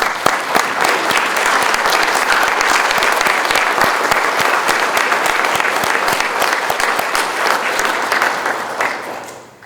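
A large audience claps loudly for military caregivers, a dense, even patter of many hands that holds steady for several seconds before fading out at the end, with no speech over it.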